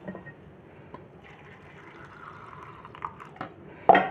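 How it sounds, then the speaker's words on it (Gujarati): Soaking water is poured off fennel seeds in a kitchen: a faint, steady trickle and dribble of liquid, with a few soft clinks and a sharper knock near the end. "થોડુંક પાણી કાઢી લેશું આપણે પહેલાં"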